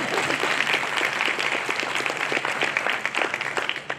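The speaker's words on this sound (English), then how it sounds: "Yeah, we can clap for that. We can clap." Graduation reception audience at an honors college applauding, a dense steady wash of many hands clapping throughout at moderate level, with no one speaking over it.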